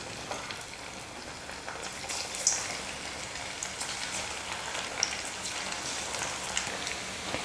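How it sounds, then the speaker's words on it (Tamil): Rice pakoda batter frying in hot oil, a steady close crackling sizzle with scattered sharper pops, continuous and even throughout with no talk. "இப்போ நான் கொஞ்சம் கொஞ்சமாக மாவு எடுத்து எண்ணெயில் போட்டுக்கிறேன்"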